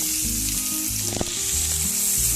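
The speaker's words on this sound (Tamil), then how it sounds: "இப்போ நம்ம பொடியை நறுக்கி வச்சிருக்க 2 வெங்காயத்தை இது கூட சேர்த்திக்கங்க." Two finely chopped onions sizzle and fry in about two spoons of hot oil for a roadside-style mushroom masala, a steady crackling hiss with a brief stir partway through. No one speaks.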